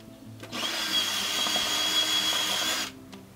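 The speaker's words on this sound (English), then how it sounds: "so I'm having to use my rechargeable cordless drill, which isn't the best thing to use" A cordless drill whirs steadily for about two seconds at close range, starting and stopping abruptly, with a churning mixing texture as it mixes render.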